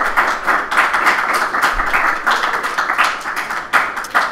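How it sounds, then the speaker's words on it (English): A room of listeners breaks into dense, steady applause that fills the space for several seconds after a podcast episode wraps up live. "And yeah, applause."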